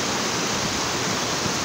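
Waterfall at the falls, a loud, steady, broadband rush of falling water that fills the whole clip without a break.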